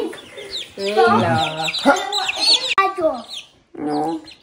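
Hens clucking and cackling up close in a weekend farmyard, with repeated loud clucks and squawks in bursts, and a voice briefly heard among them.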